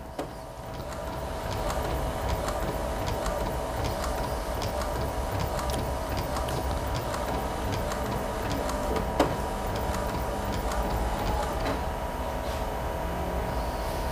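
An Epson L805-class roll-to-roll DTF printer runs continuously, with a steady mechanical hum and rapid ticking of the moving print head, one sharper click standing out midway.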